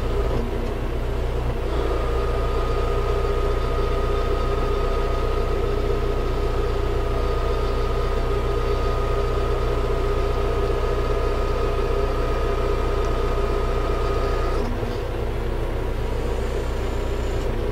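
A tractor engine idles steadily with a crop sprayer attached, a low continuous rumble with a faint steady whine above it, holding constant for most of the stretch before a brief shift near the end.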